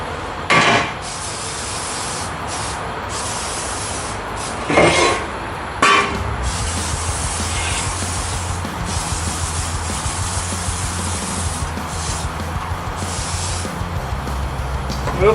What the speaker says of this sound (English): Just give her a good old spray.